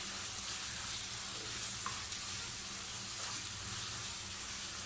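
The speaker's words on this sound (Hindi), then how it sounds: "अब मैं इसमें डालूँगी कलवंजी, ज़ीरा और अजवाइन, इसे फ्राई कर लेंगे" Kalonji, cumin and ajwain frying in hot oil for bhindi masala, a steady even hiss of sizzling with a few faint pops, close and continuous with no speech.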